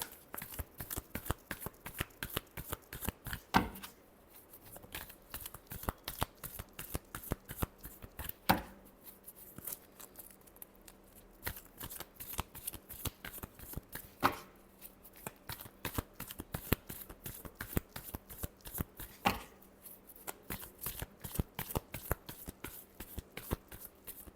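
A deck of tarot cards being shuffled by hand, with rapid crisp riffling clicks and slaps repeating steadily and close for over twenty seconds, no talking.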